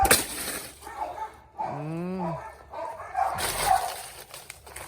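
A dog in a backyard gives a drawn-out whining howl, and sharper barks sound around it, medium close, mixed with a person talking and some clattering.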